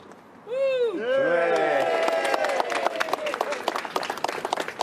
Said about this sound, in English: the crowd will once again go wild, I think